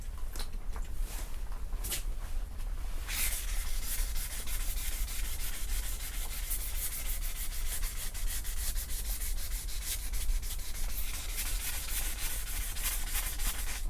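Light hand sanding of car body paint with 1500-grit sandpaper on a custom roll pan for a Chevy Tahoe, a steady continuous scratchy rubbing that stays close and even throughout, with no talking.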